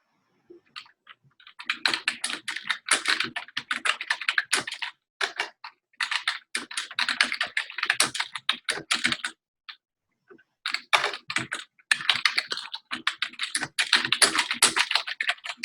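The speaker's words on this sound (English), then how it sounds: "So I'm typing in" Steady typing on a computer keyboard, close and clear, in quick bursts of rapid key clicks broken by short pauses, with no voices.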